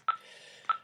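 Two short, bright electronic keypad tones, evenly spaced, as a telephone number is dialed on a home phone ahead of a call, with quiet faint hiss between the beeps and no talking.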